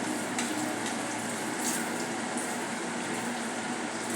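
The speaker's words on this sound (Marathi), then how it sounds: "बघू शकता आपण अशा प्रकारे मी तळून घेते." Vada frying in hot oil makes a soft, even sizzling hiss at low to moderate level, steady throughout with faint bubbling crackle and no voices.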